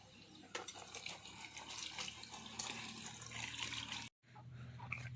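Water runs from a tap as banana leaves are rinsed, a steady splashing and trickling close by, broken by a brief silence near the end before the flow resumes.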